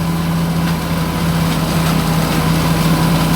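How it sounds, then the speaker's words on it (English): A hammer mill grinding dried cassava peels gives off a loud, continuous mechanical drone with a steady hum and no pauses throughout. "We are grinding it with the hammer mill."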